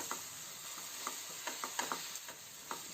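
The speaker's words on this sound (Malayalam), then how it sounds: "ഇനി ഇതെല്ലാം കൂടിയിട്ട് ഒന്ന് നന്നായി മിക്സ് ചെയ്ത് കൊടുക്കണം" Spice powders and tomato sauce being stirred together in a pan, with soft scraping strokes and light clicks of a spoon repeating at an uneven pace over a faint steady sizzle; no one speaks.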